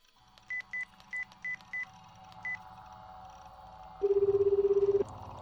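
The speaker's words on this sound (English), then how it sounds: "and called Rimi's phone number." Telephone keypad tones in a visual novel game, a quick series of short dialing beeps followed by a single sustained lower tone about a second long, over a soft background hum.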